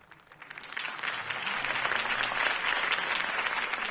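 A crowd cheers and claps for Harvey Dent's campaign speech in a Batman adventure game, a dense wash of applause that swells over the first second and holds steady and full.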